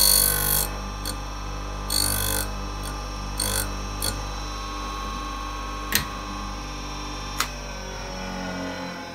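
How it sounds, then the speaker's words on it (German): Intermittent grinding bursts from an HSS metal drill bit on a TATAR sharpener, with short sharp scrapes and clicks between steady motor hum, nearby and fairly loud. "umschwenken und die Schneide schleifen"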